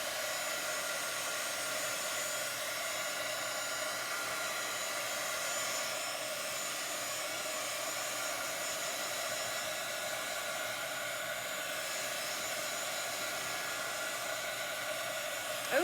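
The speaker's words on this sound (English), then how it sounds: "Let's dry it. I'm just going to give this a little dry." A hair dryer runs steadily on a chalk craft project, a constant near whir held at even loudness throughout with no talk over it.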